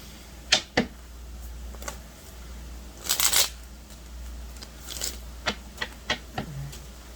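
Tarot cards being shuffled and drawn during a reading, heard as a quick burst of riffling followed by a series of short, crisp snaps and slaps as single cards are pulled and laid down, close and fairly quiet.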